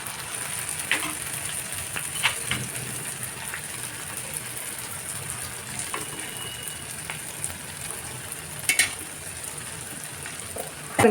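Achu murukku, eggless rose cookies, frying in hot oil in a nonstick pan, giving a steady close sizzle and bubbling throughout with a few brief louder pops near the end.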